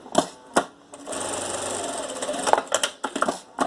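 Sewing machine running a short safety seam along a fabric edge for a jewelry holder, a sustained whirring stitch burst of about two seconds between brief starts and stops.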